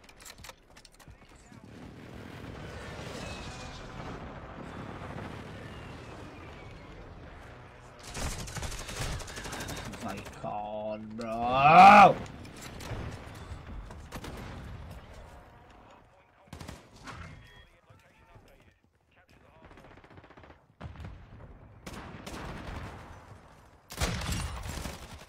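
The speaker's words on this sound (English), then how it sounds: "The fire rate on this gun" A video-game gun fires rapidly in several short bursts with scattered single shots between them, mixed with stretches of people talking.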